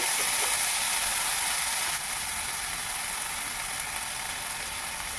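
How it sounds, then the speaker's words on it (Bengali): Gobindobhog rice frying in a pan with turmeric and salt, a steady close hissing sizzle that stays even throughout with no talk. "এখন আমি গোবিন্দভোগ চালটিকে ভেজে নিচ্ছি। সামান্য হলুদ লবণ দিয়েই ভাজবো।"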